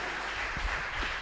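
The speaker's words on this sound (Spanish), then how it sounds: "¿Cuántos pueden darle un fuerte aplauso al Señor?" A church congregation applauding during a sermon, a brief burst of dense, continuous clapping heard from within the crowd.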